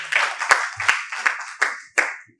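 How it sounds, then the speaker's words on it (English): Conference audience at a business-of-law event applauding, a brisk wash of many hands clapping at close range with sharp individual claps standing out, steady for a couple of seconds before tapering off. "So please, a round of applause for yourselves."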